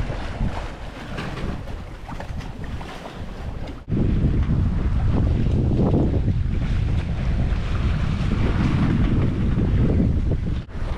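Strong wind buffeting the microphone aboard a sailboat at sea during a solo Mediterranean crossing from Calvi, Corsica, steady roaring gusts over water and hull noise, louder after a sudden jump, with no talking.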